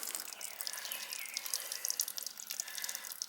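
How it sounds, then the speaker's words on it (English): Water dripping and trickling from a leaky outdoor sill faucet with a worn washer; faint, irregular splashy drips and a thin trickle, close by, with no talking. "Keeps dripping."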